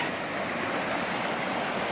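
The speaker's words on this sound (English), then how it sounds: "this is Kimsey Creek I'm walking along now" Kimsey Creek rushes along a trail approaching the Appalachian Trail near Deep Gap, a close, steady roar of flowing water with no talk.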